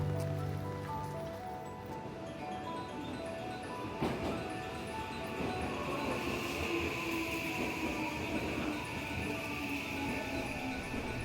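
A train rumbles steadily through a station in Osaka at moderate distance on a rainy day, with a faint rattle of wheels and rain-like hiss in the background.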